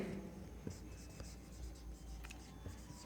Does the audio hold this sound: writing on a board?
yes